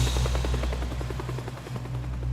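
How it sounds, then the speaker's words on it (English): Helicopter in a video game about a timed demolition with a blazing fire, its rapid rotor thumping and engine hum loud and continuous for a moment, with no talking. "Oh, that's a helicopter."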